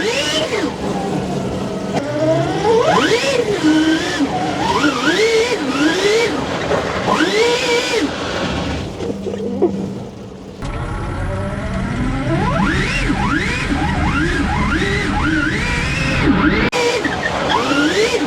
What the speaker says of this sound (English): Oh, it all skid!